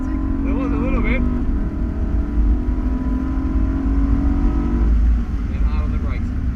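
A race car engine on the Wakefield Park track holds a steady, loud drone as the throttle is squeezed, with the pitch rising slightly before easing near the end, under continuous talk from an instructor.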